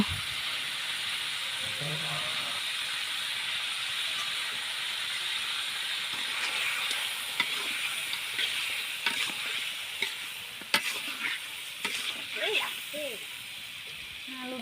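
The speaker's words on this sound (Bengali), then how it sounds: "এখন আমি মাংসগুলো কিছুক্ষণ ভেজে নিব" Duck meat frying in a kadai, a constant low sizzle and hiss with scattered clinks and scraping stirs growing busier toward the end, a few brief voice sounds mixed in.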